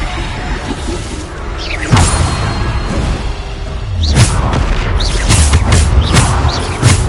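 Repeated booming blasts from the Bombarda spell in the video game Hogwarts Legacy, loud thuds with whooshes and crashing debris arriving in clusters, while a player's voice calls out words over the action.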